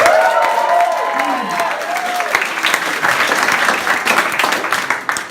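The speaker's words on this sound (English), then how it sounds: "Give a round of applause to Chris at the bar there." A crowd applauds loudly with cheering, the clapping swelling and continuing steadily, with a voice calling out at the start.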